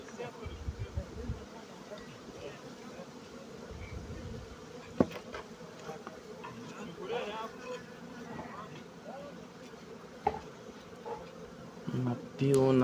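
Honey bees buzzing steadily over an opened hive during a late-September frame inspection, a close continuous hum with occasional knocks and handling sounds.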